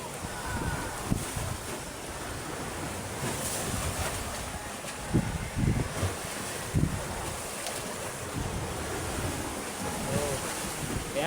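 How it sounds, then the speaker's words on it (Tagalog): Ocean waves wash and surge under gusting wind at sea from a boat as the wind picks up, with constant wind buffeting and louder wave thumps breaking through; a faint voice is barely present. "saka malaki din ng alon"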